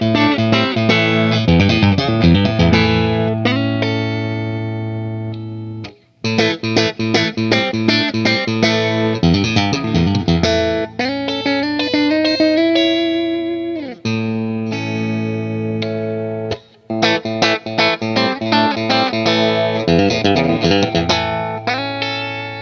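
Vola Vasti Super Tele electric guitar with a power boost, playing loud sustained chords and melodic runs with a driven, slightly distorted tone, broken by two brief pauses.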